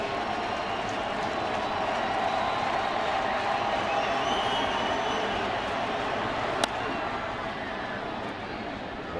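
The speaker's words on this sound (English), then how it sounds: "Crowd now comes alive." A baseball stadium crowd swells into sustained cheering and roaring during a Brewers at Cardinals game, broad and steady, with one sharp crack partway through.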